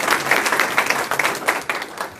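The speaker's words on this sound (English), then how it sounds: "let's give a round of applause there" Audience at a community awards ceremony giving a round of applause, a dense, steady patter of many hands clapping close by for a couple of seconds.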